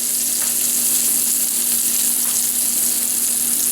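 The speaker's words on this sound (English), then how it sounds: "The steak goes right in the pan." A New York strip steak searing in extra virgin olive oil in a steel pan, a loud, steady, close-up sizzle with a faint hum beneath it and no talking.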